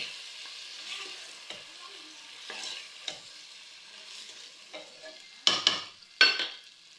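Molokhiya being stirred in a cooking pot, with a steady soft sizzle underneath and a series of scraping strokes that grow louder and sharper toward the end.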